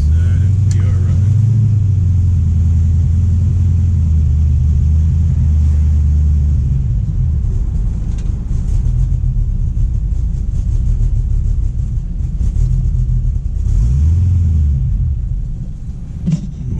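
A 1976 Chevy C10 pickup with an LS engine swap rumbles on the road, a loud steady low drone inside the cab that eases slightly near the end, with people talking over it.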